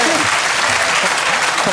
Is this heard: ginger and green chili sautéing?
no